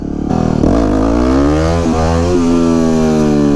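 A Triumph Daytona 600 sportbike accelerates hard on the road, its engine note climbing steadily through the revs with a brief dip at a gear change, loud and close with no voices.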